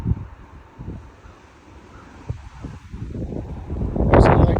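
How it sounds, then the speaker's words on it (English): Strong wind gusts blow across an open yard in Frisco, Texas, roaring steadily with rustling, swelling louder toward the end into a heavy gust buffeting the microphone. "There's another gust."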